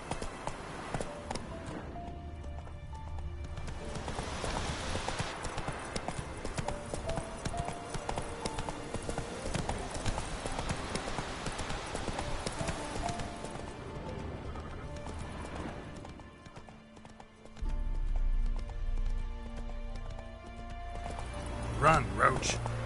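Horse hooves galloping in The Witcher 3 on PS4, a rapid clip-clop rhythm that runs steadily for most of the stretch, with game ambience and a brief whinny-like sound, then a louder close thump near the end.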